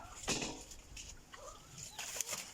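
A farmyard chicken clucks in short, irregular bursts at close range, with faint scratching and rustling between calls and no talking.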